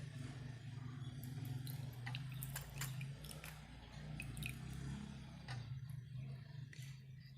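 Clove-steeped water is strained through a kitchen strainer, giving faint, close drips and soft wet trickles in a quiet room.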